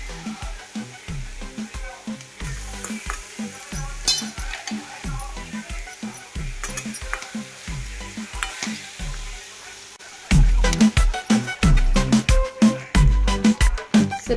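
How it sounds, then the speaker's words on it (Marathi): Jaggery and lentils stirred in a kadhai for amti, a spoon scraping the pan in a steady quick rhythm over a soft sizzle, growing louder and more vigorous toward the end, no talk. "आता गूळ आणि डाळ मिक्स करून घट्ट होईपर्यंत"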